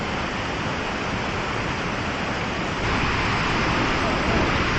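Rushing water of a waterfall on the Trans Canada Trail in Bracebridge, a steady broadband roar that swells slightly louder partway through, heard alone without voices.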